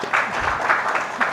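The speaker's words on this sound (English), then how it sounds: "Hand clap for Paul." A brief, modest round of hand clapping from an audience at a pre-games symposium and meeting of delegation heads, with a few loose claps pulsing unevenly over a low murmur.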